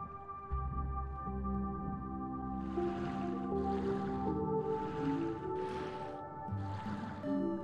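Water drops falling and being caught in the video game Turgor, heard as a series of five soft splashy bursts roughly evenly spaced over a sustained, droning musical background.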